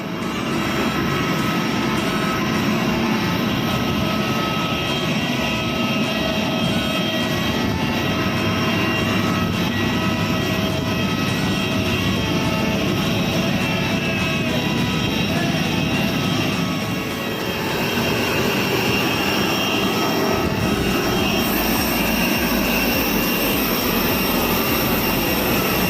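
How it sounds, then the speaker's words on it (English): Steady, loud roar of an Air Asia Airbus A320 airliner's jet engines heard from inside the cabin on a flight from Dumaguete to Manila, a broadband whine and rumble that holds evenly throughout with no voices. "I'll be flying to Manila with Air Asia Airbus A320"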